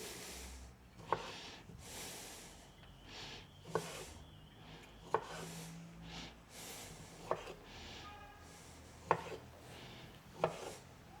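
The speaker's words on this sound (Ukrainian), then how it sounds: "Ріжу на половинки або на четвертинки." A knife cuts vegetables into halves or quarters against a board every second or two, crisp clicks over a soft background hiss, with faint handling noises between cuts.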